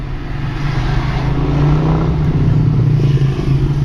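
A car engine roars as it pulls away in first gear, a loud, close, deep rumble that builds and holds steady.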